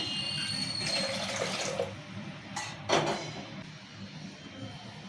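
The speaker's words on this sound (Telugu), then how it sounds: "మూడోసారి నీళ్ళు పోసి పొయ్యి మీద పెట్టుకుందాము" Water runs and splashes steadily into a cooking pot of rinsed lentils, with a couple of brief louder gushes partway through.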